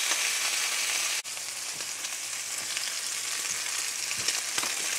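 Brown-sugar-rubbed pork chops browning in a hot pan give a loud, continuous sizzle with a short dip after about a second, then steady crackling frying, with no voices.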